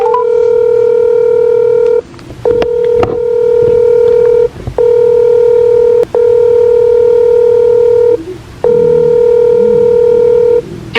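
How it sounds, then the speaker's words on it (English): Loud telephone dialing: a run of steady DTMF tones about a second long each, separated by brief gaps and clicks, close and alone with no voice. "So I decided to call her back."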